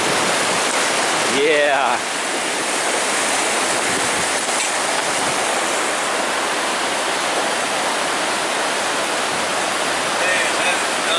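A river in Torres del Paine, Patagonia rushes loudly and steadily as broadband white-water noise close by, with a brief voice heard over it early on.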